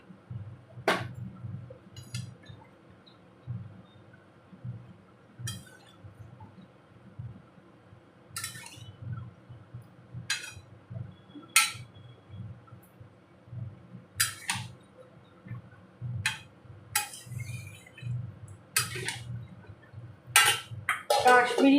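A spoon clanks and scrapes around a metal pot while boiled peas are stirred for onion ghugni, with bright irregular clinks over a soft background and occasional voice sounds.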